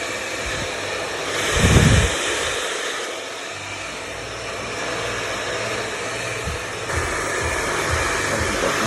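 A hair dryer blows steadily and loudly close by as hair is blow-dried with round brushes during a layered haircut, with a few low thumps of the brush and handling.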